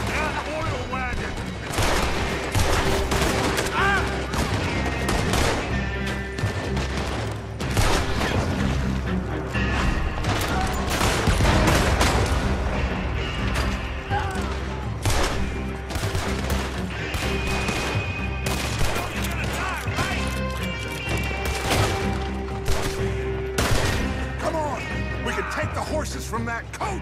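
Gunfire in a Red Dead Redemption 2 shootout around an oil wagon, with dense repeated shots and crashing impacts running steadily throughout, loud and busy, with voices talking over parts of the fight.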